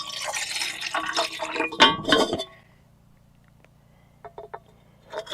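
Water is poured into a measuring cup at a camp kitchen, a bright splashing fill lasting a couple of seconds, followed by a few faint clinks and drips.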